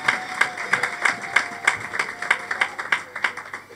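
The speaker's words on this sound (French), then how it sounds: "Applaudissez pour notre mercenaire." A church congregation at a communion service claps in a steady, fairly even rhythm, individual sharp claps standing out close by over a softer crowd, with a faint tonal hum underneath.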